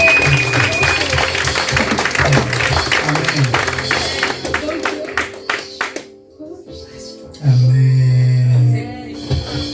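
Church congregation clapping and cheering in praise, a burst of applause and voices under spoken and sung worship, fading out before a sustained tone takes over.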